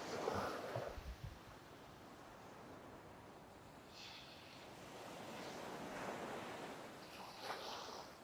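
Ocean surf washes in a soft, continuous rush with gentle swells rising and fading, faint and distant, no voices.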